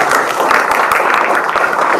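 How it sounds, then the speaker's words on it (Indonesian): A class applauding presenting group 5, a dense burst of many hands clapping together at close range, loud and steady for a couple of seconds. "Berikan aplaus untuk kelompok"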